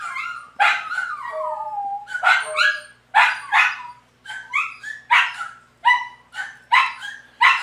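Several dogs bark close and loud in repeated sharp bursts, some yipping and whining between barks, with a steady rhythm of volleys and no talk over them.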